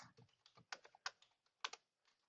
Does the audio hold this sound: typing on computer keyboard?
yes